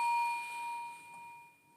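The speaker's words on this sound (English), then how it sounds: "I'm going to go ahead and end it with the three little bells" Small bells ring with a sustained, decaying tone that fades out gradually, heard close and alone.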